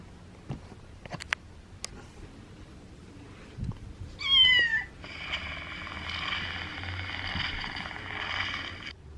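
A kitten gives a single clear, rising meow at close range in a quiet room, preceded by faint clicks and followed by soft hissy background noise.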